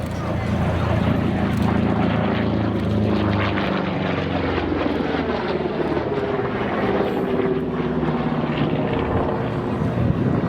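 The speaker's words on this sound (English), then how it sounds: "that P-47 there carries 305 gallons of gas" A flight of Republic P-47 Thunderbolt propeller fighters at an airshow gives a steady, loud, broadband engine and propeller roar, sustained throughout with no break.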